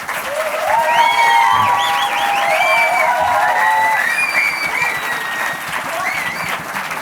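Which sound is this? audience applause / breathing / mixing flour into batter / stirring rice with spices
audience applause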